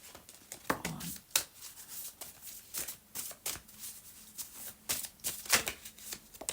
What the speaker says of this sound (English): I'll take 3 cards actually from the Brian Froud Fairies Oracle